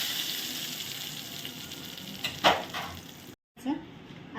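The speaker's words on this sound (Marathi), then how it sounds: "तेल गरम झालं, चटणीवर तेल टाकून घ्यायचं" Hot oil poured over a peanut and chili chutney sizzles, with a steady frying hiss, a sharper burst partway through, a brief dropout, then a short renewed crackle, heard up close.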